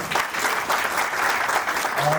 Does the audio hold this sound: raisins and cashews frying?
no